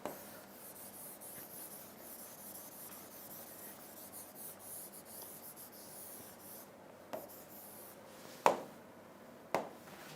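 Soft continuous rubbing of an eraser wiping writing off a classroom board, close and quiet, broken by a few sharp knocks near the end.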